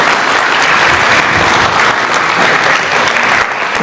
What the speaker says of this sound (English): Can we give a one round of applause for them?